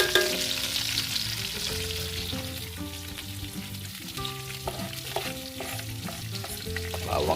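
Garlic and onions sauté for pork ribs in a farm kitchen, producing a continuous crackling sizzle with occasional stirring, partly masked by music with clear melodic notes.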